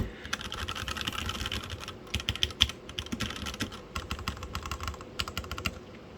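Fast, steady typing on a mechanical keyboard fitted with Carbon Retro DSA-profile keycaps over milky yellow switches: dense, close clacking keystrokes in bursts with brief pauses, no talking.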